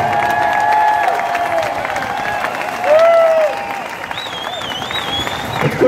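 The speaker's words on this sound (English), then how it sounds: "So, guys, please put your hands together, cheer them on" A rally crowd in Sydney applauds and cheers, with continuous loud clapping and a few whistles rising over the noise, swelling briefly partway through.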